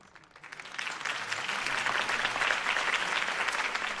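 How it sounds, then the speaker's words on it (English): A crowd in Batman: The Telltale Series applauds Harvey Dent's campaign speech. The clapping swells quickly within the first second, then holds as a dense, even wash of applause. "If only Mr. Wayne, my campaign's largest backer, could have heard that applause"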